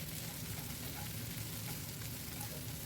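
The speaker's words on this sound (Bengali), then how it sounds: "শিমটাকেও একটু ভেজে নেবো" Cut broad bean pieces fry with potatoes in a pan, giving a steady, even sizzle that runs the whole time at a moderate, close level with no talk.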